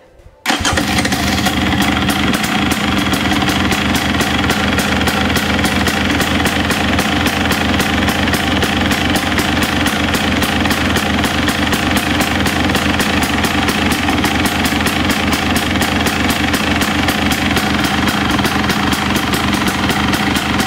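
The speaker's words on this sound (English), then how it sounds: "Idling a little low right now, it's just a little cold, I think." A KTM motorcycle engine with throttle body injection fires up and settles into a steady, slightly low, cold idle, a loud and even rapid putter that runs on alone.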